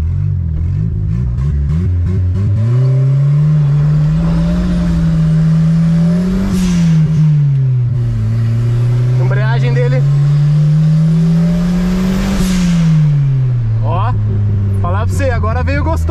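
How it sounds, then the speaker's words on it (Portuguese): A turbocharged Chevette fitted with 17-inch wheels revs hard and close, its engine note rising and falling in two long sweeps, with brief voices chiming in near the end. "Aqui eu vou dar mais uma aceleradinha, ó."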